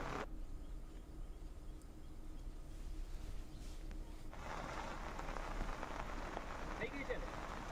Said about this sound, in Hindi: तापी जिले में भी भारी बारिश जो है वो लगातार हो रही है